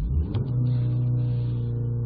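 A Ford Focus or Fiesta with a DPS6 Powershift transmission, sitting in park with the accelerator floored, holds a steady, loud engine drone at high revs, constant throughout with no talk.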